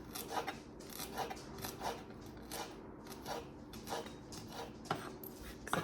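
Italian parsley, stems included, is cut by hand in a kitchen, giving quiet, close, irregular crisp snips and rasping strokes repeating every half second or so, with no talk.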